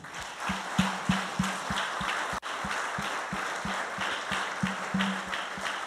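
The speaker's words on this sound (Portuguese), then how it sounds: "Você que foi abençoado pela palavra do Senhor, dê um aplauso a Ele" A church congregation applauds during a service, a dense, steady wash of clapping that fills the space, with a regular low thumping beat running beneath it and a brief dropout partway through.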